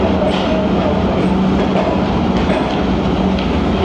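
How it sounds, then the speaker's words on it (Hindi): A passenger train rolls into Kotri Junction after running from Karachi Cantonment in Pakistan, giving a steady, loud rumble of wheels on rails that runs without a break and with no voices. "और अप्रोच बना ली है ट्रेन ने"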